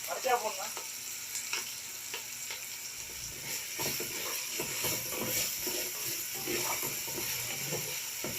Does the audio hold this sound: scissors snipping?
no